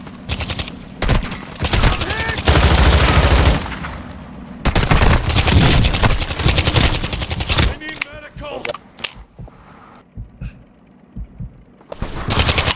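Loud automatic gunfire in Call of Duty: Warzone 2.0 DMZ comes in heavy bursts and sustained sprays, broken by short lulls and scattered single shots, with brief voices between the volleys.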